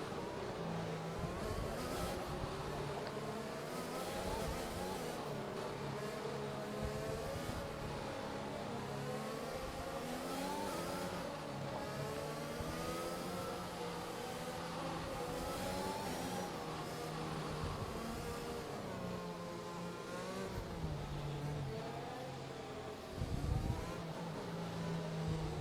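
Race cars in the F1 video game hum and whir in a steady pack behind the safety car on the Azerbaijan street circuit, a continuous droning engine blend that holds level throughout.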